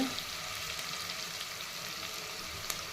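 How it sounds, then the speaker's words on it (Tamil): Onions frying in a pan give a steady, soft sizzling hiss with faint crackles, heard close and alone. "வெங்காயம் நல்லா வதங்கிடுச்சுங்க."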